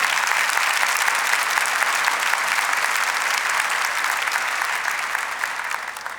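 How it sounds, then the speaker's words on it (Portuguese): A large audience at a church talk claps steadily and loudly, the applause fading slightly toward the end. "Vamos aplaudir essas palavras do Papa Francisco? Pode ser mais forte."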